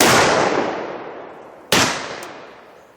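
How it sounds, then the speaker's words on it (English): A Laser Arms XT-15 28 gauge short-barreled single-shot shotgun with a 14-inch barrel fires one loud, close shot whose blast decays slowly, then a second sharp report follows partway through. "Laser Arms model XT-15 14-inch barreled SBS single shot."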